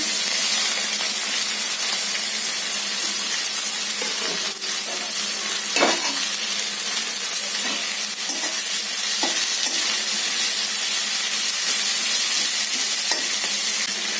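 Chopped onion sizzles steadily in hot oil in a pan, a constant bright frying hiss heard close up, with a few soft stirring scrapes and no talking.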